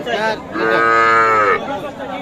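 Cattle moo loudly and close by at a livestock market in Bangladesh, one long drawn-out bellow with a rising harmonic tone, surrounded by faint crowd noise.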